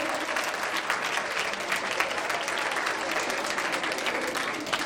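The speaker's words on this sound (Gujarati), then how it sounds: "તો તાળીઓના ગડગડાટ સાથે તેજસ સાહેબ ને વધાવીશું" An audience claps together at an annual day function of a school institute, a dense, sustained burst of applause filling the hall for several seconds.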